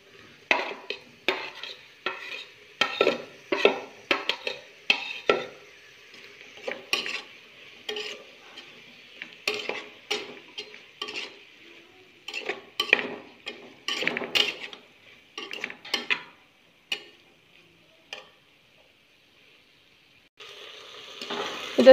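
Green chilies and tomato frying for a beef curry, with repeated clattering stirs of a utensil against the pot in uneven bursts, close by, over a faint sizzle and with no voices.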